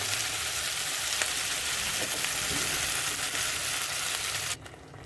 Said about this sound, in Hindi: अभी आप देख सकते हैं ये भुन रहा है, अभी ऑयल सेपरेट नहीं हुआ है